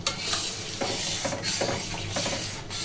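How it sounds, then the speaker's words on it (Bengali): A spatula works steadily through milk in a pot for chocolate ice cream, giving continuous rhythmic scraping and swishing strokes with a soft bubbling sizzle close by. "এইভাবে কিন্তু সমানে খুন্তি দিয়ে এটাকে দুধটাকে নাড়তে হবে"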